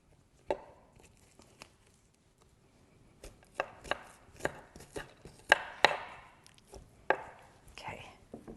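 A knife cuts through butternut squash on a board, with one sharp chop, a quiet pause, then a series of irregular close chops and scraping cuts, moderately loud.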